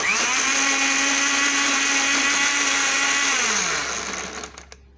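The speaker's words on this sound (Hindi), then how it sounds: "अब इसको मिक्सी में वो करेंगे और फिर चलाएंगे" A kitchen mixer grinder whirs loudly and steadily while blending tamarind chutney, its pitch dropping as the motor winds down near the end.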